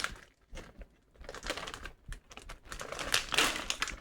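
A plastic pepperoni package is ripped open with crinkly tearing and rustling bursts, close by and alone in a kitchen.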